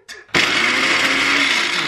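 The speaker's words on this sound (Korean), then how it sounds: "믹서기에 해산물 넣는 건 처음이에요" A blender grinding seafood whirs to life after a brief start, running loud and steady with a high grinding whine.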